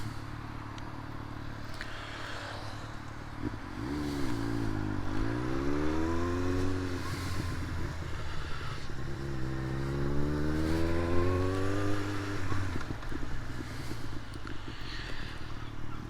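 A Yamaha XJR motorcycle ridden on the road, its engine rising in pitch through two clear accelerations with gear changes, heard close from the rider's position over steady wind rumble.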